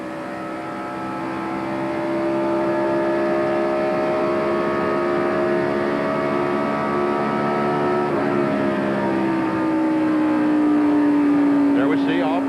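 A 1994 NASCAR Winston Cup stock car laps the Indianapolis Motor Speedway at the inaugural Brickyard 400, its engine droning steadily as it lifts off the gas, brakes and reaccelerates through the short chute, with continuous loud engine tone and rising pitch near the end.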